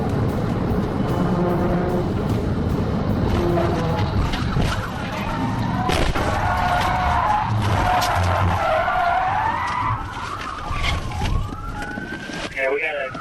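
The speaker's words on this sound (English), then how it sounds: "The suspect refused to stop, accelerating and weaving recklessly through traffic at high speed." A fleeing car speeding and weaving through traffic during a police chase: loud, continuous engine roar and road rush with tire screeches, swelling and falling pitch as vehicles pass, and a siren-like wail near the end.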